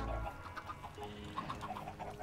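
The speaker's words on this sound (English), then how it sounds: "hear chickens." Minecraft chickens clucking in a survival game, a string of short soft clucks repeating unevenly over a faint steady background.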